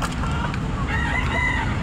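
Chickens clucking nearby with a rooster crowing partway through, layered over a steady background hum of a farmyard.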